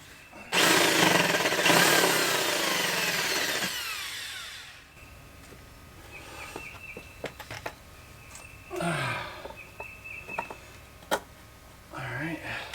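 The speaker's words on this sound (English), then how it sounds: "So I will pull out a corded drill to get the power I need" A corded power drill spins a drill bit into a backyard project piece with a loud, sustained whine lasting about three seconds, followed by sharp clicks and handling noises while someone talks.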